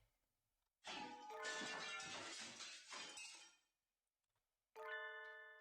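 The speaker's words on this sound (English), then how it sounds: "Some glass object splinters with a monumental crash behind us as we make for the exit." A glass object shattering with a crash in the game Hatoful Boyfriend: Holiday Star, a loud splintering smash with ringing tinkling shards over several seconds, then a short bright chime after a pause.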